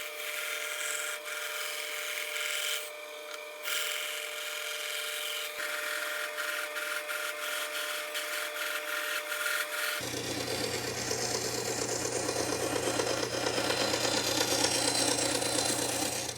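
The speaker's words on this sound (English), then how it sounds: "I'd rather just cut it on the bandsaw. I'll make a cut into the ring." A bandsaw hums steadily while cutting into a wooden ring for caster coasters, a continuous machine drone that grows rougher and louder as the blade bites into the wood.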